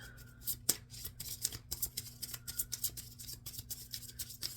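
Rapid, rhythmic papery swishing and riffling as tarot cards are shuffled, a string of quick brushing strokes close by.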